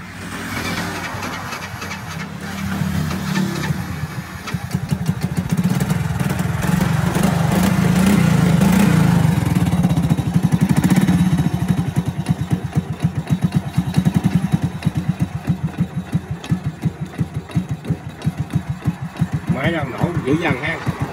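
Honda Wave Alpha 110 motorcycle with a Thai-spec engine idling, then revving to a louder, rougher roar before settling back to a fast putter, close by, with someone talking over it.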